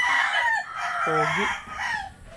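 A rooster crows once, loud and close, among chickens clucking near their coop, with a brief spoken word from a person nearby.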